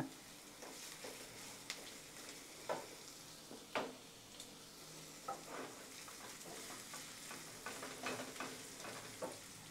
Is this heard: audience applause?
no